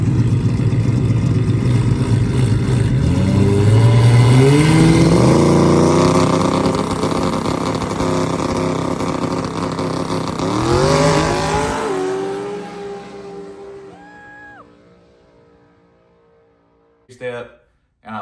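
A rear-wheel-drive car launches at a drag race during an AWD versus RWD shootout, its engine revving loud and rising through several gear pulls before fading into the distance, followed by a few brief clicks near the end.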